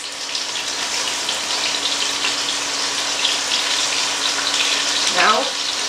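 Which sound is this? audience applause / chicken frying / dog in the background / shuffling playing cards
chicken frying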